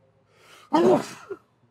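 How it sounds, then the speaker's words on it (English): A single sneeze at a hobo-style outdoor hangout, a sharp loud burst after a quiet lead-in breath, followed by a brief tail. "Oh, I sneezed."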